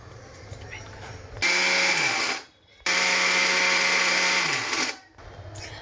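A kitchen mixer grinder crushes fresh coriander and curry leaves in two loud whirring bursts, the first short and the second longer, each winding down with a falling pitch, with quiet pauses between.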